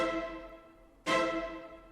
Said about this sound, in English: I have a violin and a cello playing the same chords that sound like this.